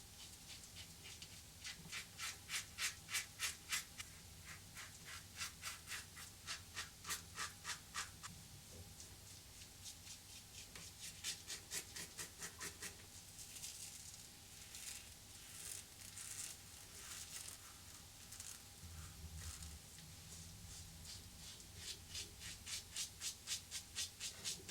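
Quiet, close scraping of an OliWorks stainless steel razor shaving upward against the grain on the cheek, in rhythmic bursts of short strokes repeated through the whole stretch.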